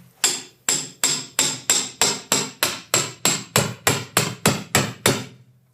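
Surgical mallet striking a cannulated osteotome during a tibial nail procedure: twelve sharp, evenly spaced metallic taps, close and loud, each ringing briefly before the next blow, with no talking.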